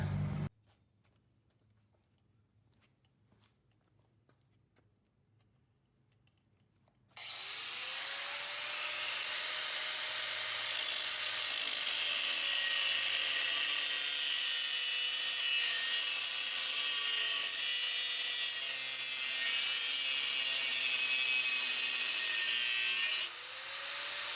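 A long, loud, continuous grinding whine of a power tool cutting a metal bracket on a walk-behind lawn mower, starting abruptly after a quiet stretch and holding steady for about fifteen seconds before cutting off.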